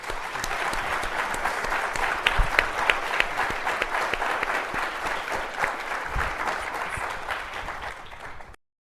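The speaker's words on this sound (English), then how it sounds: "could you please provide our panelists with a fantastic round of applause" A studio audience claps steadily and enthusiastically for several seconds, a dense, even wash of applause that cuts off abruptly at the end.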